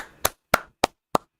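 Four sharp hand claps struck close to a microphone at roughly even intervals, each a loud overloaded crack that cuts off into silence, during a livestream watch party.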